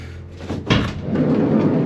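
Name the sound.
van door being opened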